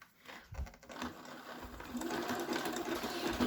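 Sewing machine stitching fabric for a yarn cozy, a steady whirring mechanical run that starts quietly and grows louder and denser, holding close and constant with no talk over it.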